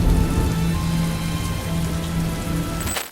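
Heavy rain pours in the PS3 video game Heavy Rain, a dense, steady hiss of drops striking surfaces with no speech, cutting off abruptly at the end.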